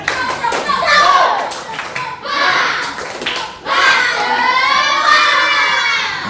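Schoolchildren in a classroom perform a rhythmic spirit clap, with bursts of clapping mixed with loud shouting and chanting voices, swelling and dipping in waves, close and lively.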